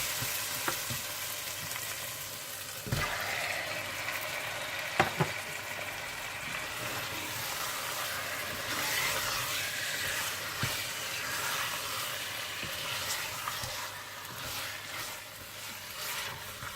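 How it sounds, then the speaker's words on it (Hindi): Chicken frying in masala for a chicken and potato curry, a steady loud sizzle and hiss with occasional stirring scrapes and clatters throughout, no voices. "जब मसाला अच्छा सा भून जाए तो आप इसमें चिकन डालकर अच्छी तरह से भून लीजिएगा"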